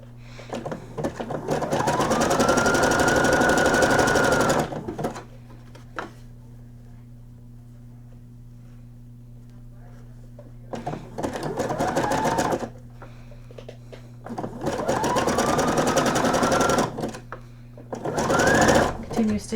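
A sewing machine stitches a seam on a beginner's night gown, running in three long bursts with pauses between, fairly loud and close, with talk in the quiet gaps.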